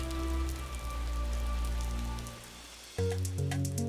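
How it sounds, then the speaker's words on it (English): Rain pours down over the rocky West Sweden coast, a dense, steady wash of drops with a low tonal hum underneath that shifts abruptly near the end. "as the rain poured down"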